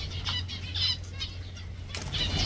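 Zebra finch wings flapping in steady repeated bursts of fluttering, close and fairly loud over a low background hum, with no talking.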